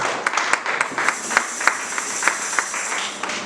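A church congregation claps along in a steady, fairly even rhythm, with sharp individual claps standing out over a dense, moderately loud layer of applause throughout.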